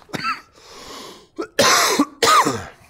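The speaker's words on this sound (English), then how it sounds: "my cough is horrible at the moment" A person suffering from allergies coughs harshly and close up: a short cough, a pause with rough breathing, then two loud, raspy bursts of coughing in quick succession.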